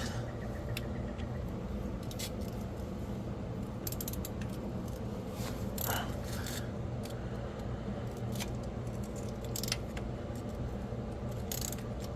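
Ratchet wrench tightening an oil pressure sending unit on a Fox Body Mustang, a steady stream of close mechanical clicking and gear chatter running throughout over a constant workshop background hum, with no talking.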